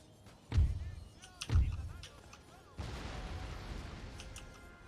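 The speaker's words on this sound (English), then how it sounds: "There's a cannon shot." Two deep booming cannon shots from an Empire: Total War battle in the War of the Spanish Succession, each a heavy thud with a decaying tail a second apart, followed by a broad rumbling wash of distant battlefield noise.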